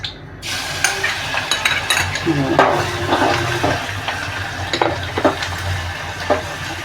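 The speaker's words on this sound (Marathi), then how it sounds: "आता आपलं तेल कापलेलं आहे आता आपण लसूण घालून घेऊ" Garlic is dropped into hot oil for tempering, giving a moderate sizzle with scattered crackles and stirring clinks near at hand, and no speech.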